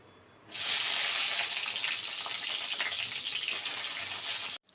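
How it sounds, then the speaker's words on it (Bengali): Eggplant pieces hit hot mustard oil in a kadai with a sudden loud sizzle that settles into steady, close frying hiss and crackle for several seconds before cutting off. "আমি বেগুনটা সবার প্রথমে একটু ভেজে নেব"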